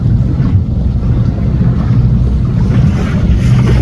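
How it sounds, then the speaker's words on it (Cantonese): Heavy wakes from three different passing boats slap and splash against a small boat out on the Hong Kong sea, with a loud, continuous wash of water and wind rumble close to the microphone. "喺佢面前咧有3種唔同嘅船咧，整出嚟嘅浪咧，要佢哋自己承受翻啦"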